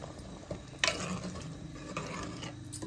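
A spoon stirring through thick mutton haleem with fresh mint and coriander, producing soft scraping and wet churning with a couple of louder clinks against the pot.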